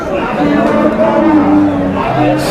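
A cow lets out a long, loud, low moo close by at a cattle market, with faint crowd chatter in the background.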